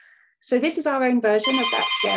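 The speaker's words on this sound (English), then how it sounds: "that is my doorbell ringing" A doorbell chimes with a bright, ringing tone that sounds under someone talking close to the microphone.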